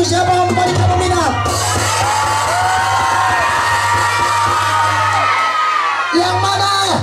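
A crowd at a community contest yells, whoops and cheers continuously and loudly, voices overlapping into a dense roar, with shouts rising and falling and a steady low hum underneath.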